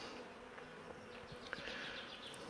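Honey bees buzz at an open beehive, a faint, steady insect drone close by with a few louder passes, and no voices.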